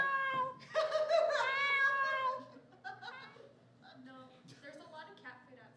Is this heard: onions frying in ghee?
no